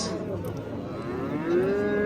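Cattle mooing at a busy outdoor livestock market, one long drawn-out low moo that rises toward the end, close by over a constant murmur of crowd noise.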